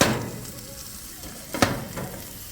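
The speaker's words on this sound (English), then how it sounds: "this is all cooking right here on the stove outside, on this grill" Salmon and mixed vegetables with scallions sizzling steadily on an outdoor grill in the evening, a continuous close frying hiss with a couple of brief louder pops or stirring clatters partway through.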